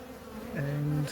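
A honey bee buzzes close by at a hive, a short, steady drone that shifts in pitch partway through, over a quiet background.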